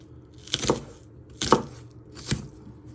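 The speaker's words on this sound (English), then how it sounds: "you just want to finely slice them really thinly. Go all the way through with your knife." A knife slices thinly through food on a cutting board for cheese and bacon croquettes, three distinct close chopping strokes about a second apart, each a crisp cut ending in a board knock, with no talking.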